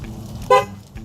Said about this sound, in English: Oh, horn honked.